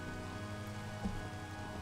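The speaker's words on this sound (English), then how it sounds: "Alright, so it's raining," Steady rain falls in Minecraft, a soft, even hiss of raindrops that holds constant and fairly faint through the short stretch.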